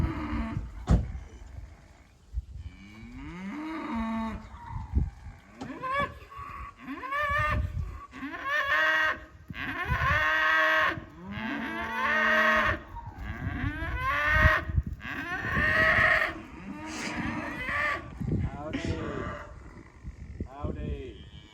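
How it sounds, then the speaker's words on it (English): Cattle on a ranch moo repeatedly, with several loud, drawn-out calls close by that overlap and follow one another for about twenty seconds, while voices can be heard at times among the lowing. "the cows say hello"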